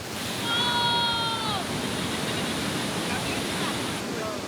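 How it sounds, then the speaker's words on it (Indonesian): Timbulun waterfall rushes in a dense, steady roar of falling water close by, with a few faint high bird chirps briefly audible over the continuous wash. "gue sampai di tujuan di air terjun Timbulun"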